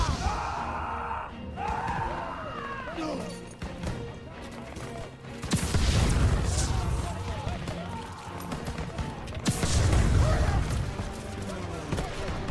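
Loud Call of Duty: WWII combat with bursts of gunfire and heavy booming explosions, layered with shouting voices and a constant dense rumble.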